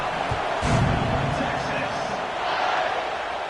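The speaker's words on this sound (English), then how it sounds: "this crowd is buzzing after that last score" Football stadium crowd buzzing after a score, a steady roar of many voices filling the clip, swelling briefly with a few louder shouts and thumps.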